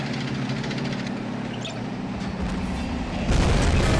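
Dense low rumble of armored battle in the Army Men of War game, a tank grinding amid continuous booming, swelling into a louder explosive burst near the end.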